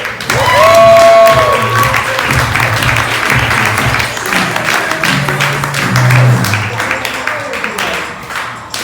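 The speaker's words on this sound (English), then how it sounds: "warm round of applause for Simone Boulder." Comedy club audience in Montreal applauding a comic's introduction, sustained clapping and cheering over music and a host's voice at first, then settling into a steady round of claps.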